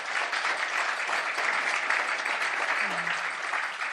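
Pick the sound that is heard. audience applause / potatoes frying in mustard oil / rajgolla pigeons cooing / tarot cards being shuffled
audience applause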